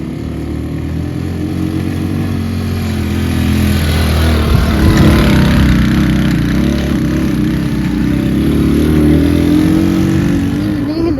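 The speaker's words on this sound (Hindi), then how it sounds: "और काबिल पीछे बाइक पे आ रही है।" A motorcycle engine labours steadily uphill behind a hiker on a hill road toward a waterfall valley, a loud, close rumble that swells slightly midway, with some voices faintly mixed in.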